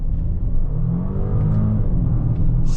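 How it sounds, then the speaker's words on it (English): Audi Q8 plug-in hybrid SUV accelerating hard in dynamic mode, a steady low engine and road rumble with rising tonal drone heard from inside the cabin, continuous and fairly loud throughout, no talking. "step on the gas and it just really goes"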